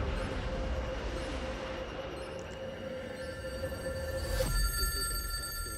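A telephone rings steadily at a moderate level over a low rumbling background, then cuts off sharply near the end as if picked up.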